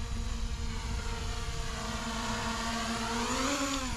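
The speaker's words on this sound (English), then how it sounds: "the motors sound fine, but I hear weird differences in RPM or oscillations in the RPM" Diatone Roma F7 FPV drone motors whine steadily through a test flight, a continuous buzzing drone with a slight pitch rise near the end, loud and close with no talking.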